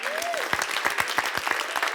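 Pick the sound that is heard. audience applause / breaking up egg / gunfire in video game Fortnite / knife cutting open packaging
audience applause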